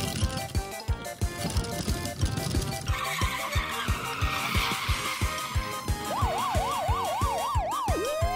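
Toy police car siren wailing in a warbling pattern, mixed with a toy garbage truck and water balloon play, over steady rhythmic music-like thumps; the siren rises clearly toward the end.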